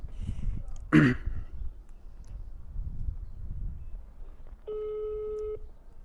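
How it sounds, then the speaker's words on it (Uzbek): After a brief throat clear, a telephone ringback tone sounds, a steady electronic beep lasting about a second over quiet background. "Mana hozir telefon qilamiz."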